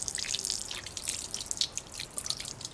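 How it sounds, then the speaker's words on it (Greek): Water trickling from the tap of a camping water dispenser, a continuous bright dripping patter close by with no talk. "το νερό τρέχει"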